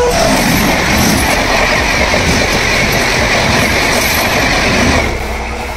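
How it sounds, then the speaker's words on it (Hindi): A train rolls past on the railway line during a cold-weather night patrol, a loud, steady rumbling roar with a rattling clatter that holds close and then eases slightly at the end. "यहाँ से आप देख सकते हैं कि ट्रेन भी निकल गई है"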